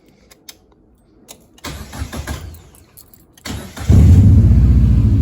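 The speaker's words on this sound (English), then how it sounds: "Starting up, usually not a problem. It's a typical Mazda." A Mazda MX5 engine started with the key: a few faint clicks, then loud starter cranking that catches into a strong, steady idle close by, with no voices.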